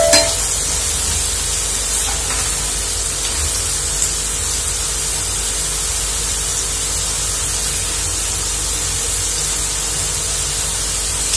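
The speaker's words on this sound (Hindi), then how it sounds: "इसको दो बार हमें फ्राई करना है, इसलिए हम इसको हाफ ही फ्राई करेंगे।" Potato pieces coated in rice flour half-fried in hot oil for crispy honey chilli potatoes, giving a steady, even sizzle and hiss throughout with no talking.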